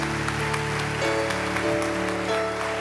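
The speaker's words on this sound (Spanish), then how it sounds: "Y con ese aplauso, como le gusta a Juan Carlos, que celebremos a sus nietos" Crowd in an arena applauding at a memorial celebration of life, steady dense clapping under sustained organ or keyboard chords and a low musical drone.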